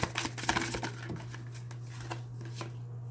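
Tarot cards shuffled by hand in a short run of soft, papery flicks and taps, strongest at the start and thinning out, with a steady low hum underneath and no speech.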